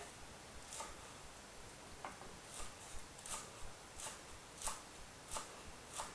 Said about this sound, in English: she's chopping these quite fine